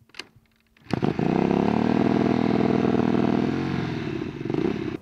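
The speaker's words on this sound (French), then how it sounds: "dès que tu démarres la moto, toute seule, elle prend des tours pendant quelques secondes" An Aprilia 450 MXV twin-cylinder off-road motorcycle fires up after a brief starter churn and climbs into a loud, steady high idle on its own, holding the raised revs for several seconds before easing down slightly and swelling again near the end.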